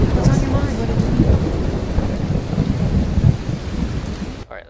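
Heavy rain pours with rolling low thunder in Skyrim Special Edition, a loud, steady storm rumble that cuts off abruptly at the end.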